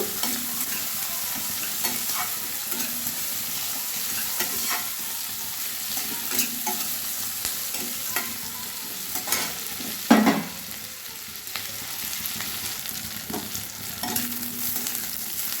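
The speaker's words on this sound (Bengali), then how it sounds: "এবার একটু পেঁয়াজ আর রসুন ভাজা ভাজা করে নেব" Onion and garlic frying in a wok for a sojne ful (drumstick flower) recipe: a steady close sizzle with frequent scraping stir strokes and one sharper clatter near the middle, no voices.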